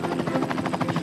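A news helicopter flies over forest, its rotor beating in a fast, even thump that is loud and close, with no talking.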